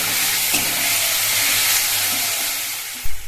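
Onion paste going into hot oil with nigella seeds gives a loud, steady broadband sizzle that holds throughout, with a brief low thump near the end.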